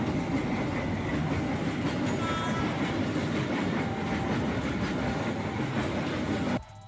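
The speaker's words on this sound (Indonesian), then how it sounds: "terjebak di tengah-tengah dua kereta api yang melintas secara bersamaan di perlintasan kereta jalan jembatan besi Tambora" Trains rumble past a railway crossing on the iron Tambora bridge, a loud continuous roar with rhythmic clickety-clack of wheels over the rails, steady and close for several seconds before cutting off abruptly.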